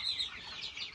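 A free-range naked neck chicken clucks briefly and fairly close by, a quick run of sharp calls over a light background hiss, with no one talking.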